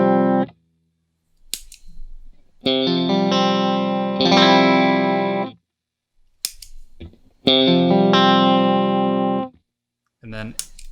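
Electric guitar played through an effects pedal, thick distorted sustained chords ringing in long loud blocks, separated by short silences and brief string scrapes, with no talking.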